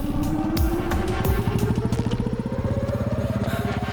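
A motorcycle engine in an action film scene runs loud and close, its throbbing exhaust pulse climbing steadily in pitch as it revs up.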